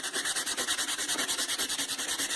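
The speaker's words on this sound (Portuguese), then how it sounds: "a gente vai passar a lixa em toda a superfície lateral" Sandpaper rubbed back and forth along the edges of an MDF jewelry box, a close, loud, rhythmic rasping with about twenty quick, even strokes and no talk.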